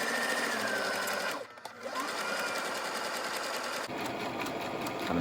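A sewing machine stitches a cable tie reinforced face mask in rapid mechanical runs up close, pausing briefly before whirring on again.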